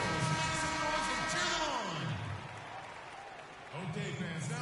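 Crowd noise roars steadily in an arena during a PS4 basketball game between the Bulls and Lakers, loud and continuous, dipping slightly midway then rising again, with an announcer's voice speaking over it.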